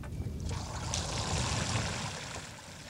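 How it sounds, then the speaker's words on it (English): Water running steadily from a Bambini ice resurfacer onto rink ice, a continuous hissing, gurgling flow heard close and alone at moderate level. "turn your water lever on."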